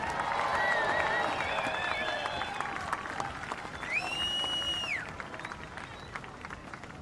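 Crowd applause and cheering for Kanoa Igarashi, runner-up at the Lexus Trestles Pro surf contest finals, a steady wash of clapping with a few whistles rising partway through over a noisy outdoor beach setting.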